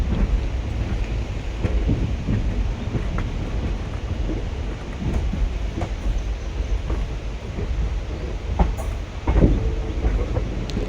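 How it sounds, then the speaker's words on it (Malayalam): A diesel train on the Arsikere to Sindhanur route pulls into Gangavathi railway station, heard from inside a sleeper-class coach as a continuous low rumble with irregular rail clacks and knocks, loudest near the end, and no talk. "ട്രെയിൻ ഗംഗാവതി റെയിൽവേ സ്റ്റേഷനിലേക്ക് എത്തിയിരിക്കുകയാണ്."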